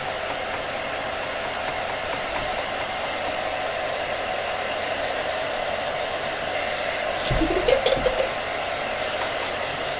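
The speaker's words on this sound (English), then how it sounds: "back away please from the hairdryer. And I'm drying mine now, halfway there." A hair dryer blows steadily at close range while drying a kids' craft project, a constant airy roar that stays even throughout, with a brief knock or clatter near the end.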